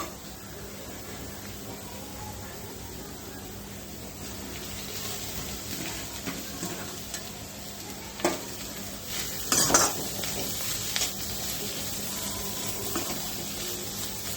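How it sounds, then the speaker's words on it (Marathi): Wild leafy bharangi and kurdu greens drop into a kadhai of sizzling fried onion and chilli, a soft steady sizzle with a few louder rustling, stirring bursts midway. "आता आपण ह्याच्यामध्ये आपली भाजी टाकून घेऊ"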